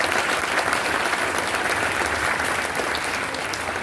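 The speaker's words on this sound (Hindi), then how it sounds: "ताली बजाओ." Audience applause at a talk, a dense, steady clapping from many hands that fills the whole stretch without pause.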